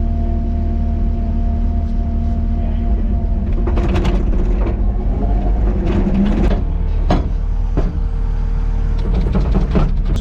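A heavy truck hauling rock, carrying five-ton loads, rumbles steadily up close with a deep continuous engine drone and some brief mechanical clatter and hiss.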